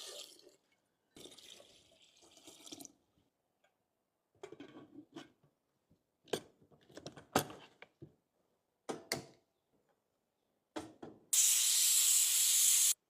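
A pressure cooker boiling three potatoes lets out a loud, continuous steam hiss near the end, after scattered short bursts of hissing and clatter in a quiet kitchen.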